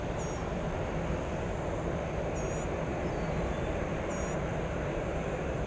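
A321 airliner taking off from a runway at Orlando airport, heard as a steady, far-off broadband roar that holds evenly throughout, with faint high chirps above it and no talking.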